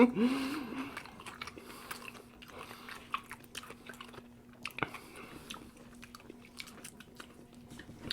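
Soft, close crunching bites and chewing of crispy Korean fried chicken, quiet and intermittent with faint clicks, set against a low steady hum, with little or no talk.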